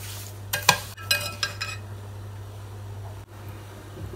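A spoon stirs and scrapes through homemade Victorian plum jam in a pot, with a few quick clattering strokes over a steady low hum, then quieter handling.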